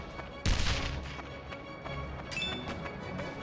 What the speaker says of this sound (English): It's cannon fire.